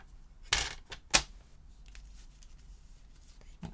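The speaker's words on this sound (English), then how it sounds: "I'm going to cut that down" A paper trimmer slices through card in two quick, crisp cutting strokes close by, each a short sharp swish, followed by faint handling rustles in a quiet room.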